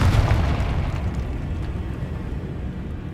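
A Confringo fire spell detonates in Hogwarts Legacy, a loud low boom at the start that rolls into a sustained rumbling roar and slowly fades over a few seconds, with no voices.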